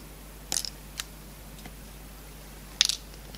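Wire cutters snipping a resistor leg during repair of a noisy toy: two distinct sharp clicks about two seconds apart, close and fairly quiet, with a tiny tick between them.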